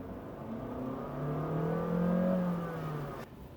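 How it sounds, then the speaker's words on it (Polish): A Honda Jazz e:HEV hybrid's combustion engine revs up, its pitch rising steadily to a high whine before dropping off abruptly at the end. "silnik spalinowy wchodzi na bardzo wysokie obroty"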